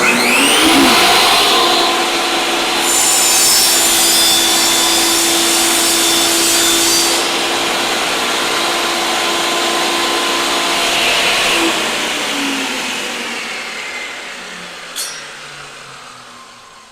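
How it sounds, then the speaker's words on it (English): A steady, loud power-sanding drone on wood runs on and on, with whirring and grinding shifts in pitch, easing off slightly toward the end. "Okay, a little bit of sanding."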